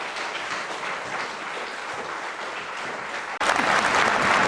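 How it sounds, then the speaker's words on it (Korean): Applause of thanks from a congregation at a Korean church special retreat closing a lecture, dense steady clapping that swells louder for the last second. "감사의 박수를 올리면서 강의를 마치도록 하겠습니다."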